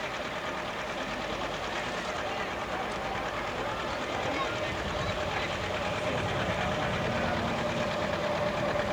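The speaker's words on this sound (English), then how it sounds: "It sounds a bit like a 4-cylinder tractor with 2 missing." At a 1985 Quambatook tractor pull, a low-revving tractor engine runs rough near 1200 rpm, missing like a four-cylinder on two. The uneven chugging continues under a steady crowd din and a commentator's voice.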